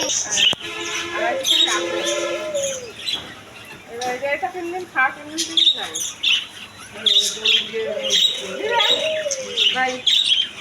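Loud, busy chirping and squawking from many caged budgerigars at a bird and pigeon market in Pabna, Bangladesh, with occasional low dove coos and voices mixed in.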